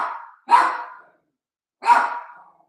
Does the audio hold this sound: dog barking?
yes